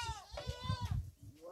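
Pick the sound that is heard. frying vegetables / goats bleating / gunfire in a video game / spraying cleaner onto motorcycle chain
goats bleating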